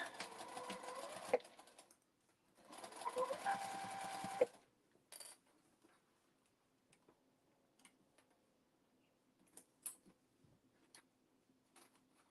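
Sewing machine stitching a fabric memory bear, two close bursts of rapid mechanical chattering separated by a pause, followed by scattered quiet clicks and handling noises.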